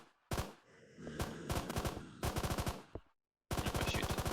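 Rapid automatic gunfire from the video game Deadzone Aeon comes in several loud, close bursts of evenly spaced shots, separated by brief pauses and one short silence before a final volley.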